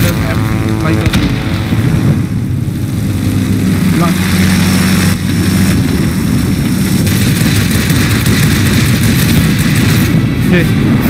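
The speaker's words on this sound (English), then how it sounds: "I grab the other fighter plane." A fighter plane engine in the video game World of Warplanes drones loudly and continuously with a steady propeller hum while a player talks over it.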